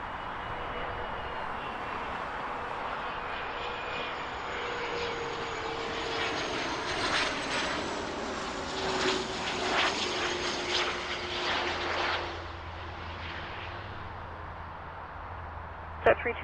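An Air Transat airliner on final approach to runway 06 right at Toronto Pearson drones steadily overhead, its engine roar swelling a little midway before easing, while a radio voice talks over it.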